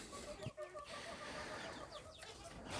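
Ornamental hens and a rooster in a breeding coop give several short clucks, near and faint, over a quiet background.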